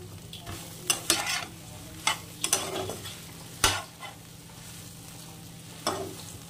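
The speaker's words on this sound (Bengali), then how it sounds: "দিয়ে লাল লাল করে সয়াবিনটাকে ভেজে নিতে হবে।" Soybean chunks frying with salt and turmeric, a quiet steady sizzle broken by repeated sharp scrapes and knocks of a spatula stirring the pan, close and without talking.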